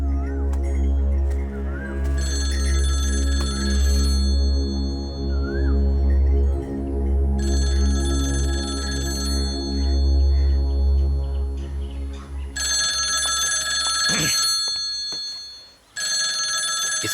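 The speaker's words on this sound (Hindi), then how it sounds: "इस वक्त कौन फोन कर रहा है?" Repeated electronic telephone ringing in bursts, loud and close over a steady low hum, with brief pauses between rings and no speech.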